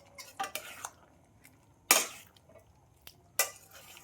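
A utensil stirs boiled wheat pasta into cherry tomatoes, bell peppers and broccoli in a pan, with sparse scrapes and two sharp metallic clanks against the pan amid quiet gaps.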